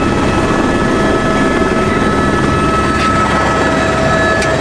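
Loud, steady helicopter rotor and engine noise droning continuously up close as it lands at a mountain helipad on the Adi Kailash route, with no voices over it.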